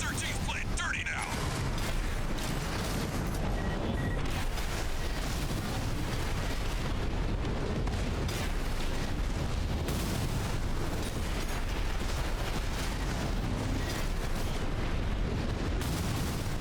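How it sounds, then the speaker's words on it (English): Heavy gunfire from mechs in Armored Core VI roars on without pause: dense, booming shots and explosions layered into a loud, continuous barrage that fills the whole stretch. "Gun 4, Gun 5, return fire!"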